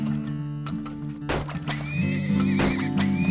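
A horse in the oil-drilling video game Turmoil gives a loud, clear whinny over a steady looping game music bed, followed by a few clopping hoof sounds.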